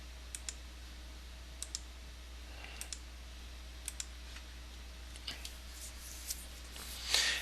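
Computer mouse clicking, a dozen or so sharp, quiet clicks spaced irregularly over a low steady hum, close to the microphone with no speech.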